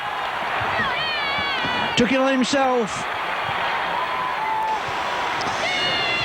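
Rugby league crowd roaring after a Leeds try against Wigan, a broad steady wash of cheering and noise, with commentators talking over it and a few sharp whistle-like bursts.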